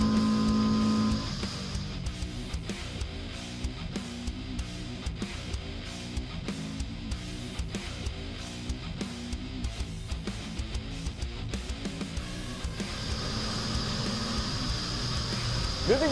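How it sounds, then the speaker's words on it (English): A ball nose end mill profiling along the side of a block of 4140 steel, a steady rhythmic cutting chatter with repeating pulses over machine hum, moderately loud and continuous. "let's take a few passes along this block of 4140 steel in order to create a typical profiling application along the side."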